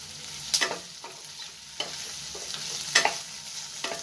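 Onion and capsicum curry with potato fries in a pan, a soft continuous sizzle broken by a few sharp scraping stirs of a spatula, close and fairly quiet with no talking.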